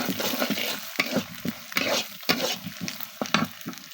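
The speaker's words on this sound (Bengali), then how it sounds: "একটু ধনে দিলাম আর একটু জিরা দিলাম একটু ভেজে দেবো" Coriander and cumin frying in a pan with leftover rice, a steady close sizzle broken by repeated spatula scrapes and stirs in an uneven rhythm, no voices.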